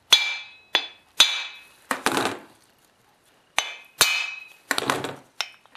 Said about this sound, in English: And now just tap the puller,